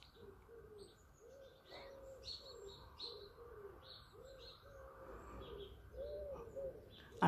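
A robin chirps in short repeated calls over steady background birdsong and low cooing, moderately close and fairly quiet with no talking.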